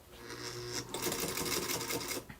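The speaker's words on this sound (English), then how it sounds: "I'm going to sew just the backing only 1-to-1 on here with my good 1/4-inch seam allowance." A sewing machine stitches quilt backing with a quarter-inch seam, running close by in a rapid, steady mechanical whir that briefly pauses and then picks up again at a slightly faster pace.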